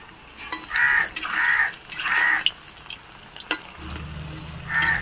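Chicken lollipop balls fry in hot oil with a steady crackling sizzle, broken by several louder bursts of bubbling as they are stirred; close and fairly loud, no voices.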